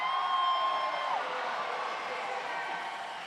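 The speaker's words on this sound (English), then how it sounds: "the crowd goes wild" Roller derby crowd at the 2024 MRDA Championships cheering and whooping loudly after a big spin on the outside line, sustained roar slowly fading, with a whistle-like tone early on.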